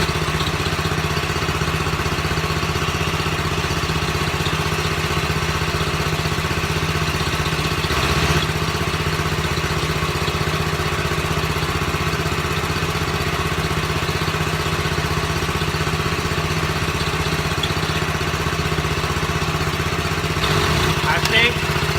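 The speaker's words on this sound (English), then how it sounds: "Alright, so I got the coal forge revved up, as you can see." A coal forge runs steadily for a knife-making session, producing a constant loud mechanical drone like an idling motor. The hum holds unchanged the whole time, with only a couple of brief knocks.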